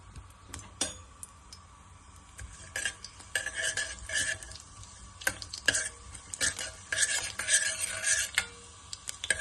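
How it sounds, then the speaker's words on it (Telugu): Cumin and mustard seeds fry in a pan for an ivy gourd curry, a soft steady sizzle under repeated scraping stirs and light clinks of a utensil against the pan, close by. "మనం నేను దీంట్లో జీలకర్ర, ఆవాలు వేసుకొని వేయించుకుంటున్నాను."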